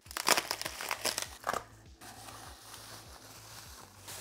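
Plastic packaging around a motorcycle workshop stand crinkles and crunches in several quick bursts close by, then settles into a quieter steady rustle under a low ticking hum.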